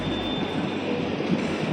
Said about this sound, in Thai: เดี๋ยวจะขึ้นรถไฟแล้วก็เข้าไปที่แมดริดนะครับ